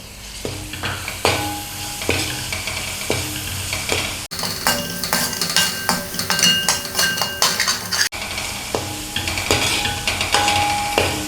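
Tomato is added to a frying pan for fish curry masala and sizzles steadily while a utensil clinks and scrapes against the pan in repeated stirring strokes.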